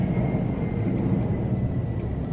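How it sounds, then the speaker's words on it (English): A fixed-wing airplane passes overhead, a steady broad engine roar holding loud and even throughout with no talking. "there's airplanes here"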